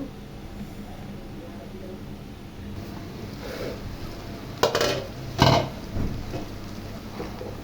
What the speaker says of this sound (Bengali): তরকারিটা নাড়া দিয়ে দিই